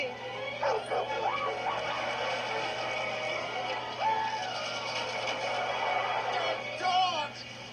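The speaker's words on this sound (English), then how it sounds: "Dogs!" Several dogs bark and yip in short bursts with a few whimpers, moderately loud over a steady hum, in a family comedy film.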